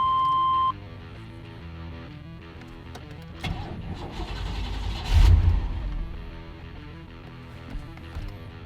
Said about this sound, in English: For attempt number 2 of getting this truck running.